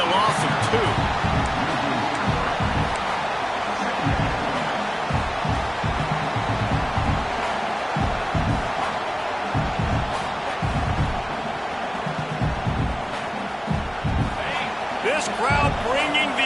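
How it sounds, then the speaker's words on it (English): A stadium crowd roars steadily throughout a college football video game, Wisconsin against Georgia, with a constant loud wash of cheering under an announcer's ongoing play-by-play commentary. "This crowd bringing the energy and noise early."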